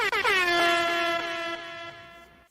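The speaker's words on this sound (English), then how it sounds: "I'm giving you the air horn." A single loud air horn blast sounds as a sound effect, holding a bright tonal note that slowly fades over a couple of seconds.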